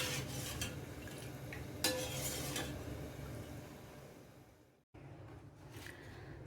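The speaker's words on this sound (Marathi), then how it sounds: "मध्यम गॅस ठेवून आपण सारखं ढवळत राहायचे।" A spoon stirs semolina kheer in a pot over medium heat, producing soft repeated scraping and clinking against the metal, with a brief sharper clatter partway through.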